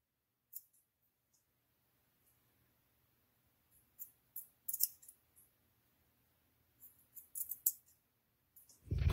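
Scissors snipping short slits into a lace strip, a handful of crisp, close snips in small bursts separated by quiet gaps, with no talking.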